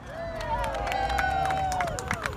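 A crowd gathered outdoors for a highway sign unveiling, with a continuous murmur of chatter, a few scattered claps and footsteps, and a tonal whine running through the background.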